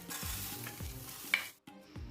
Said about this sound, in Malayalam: ഈ ഒരു ഫ്രൈ പാനോ അല്ലെങ്കിൽ ചീനച്ചട്ടിയോ ചൂടാക്കിയിട്ട് ഇതിലേക്ക് നമ്മൾ കഴുകി വെച്ചിരിക്കുന്ന ഈ അരി ഇട്ടിട്ട്